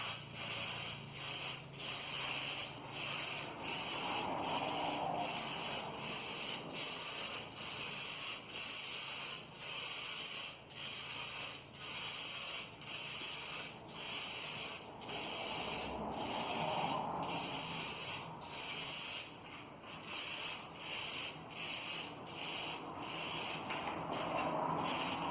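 Aerosol spray can misting paint onto a project part, a steady close hiss broken by many short rhythmic pauses as the nozzle is pressed and released, running on without any talking.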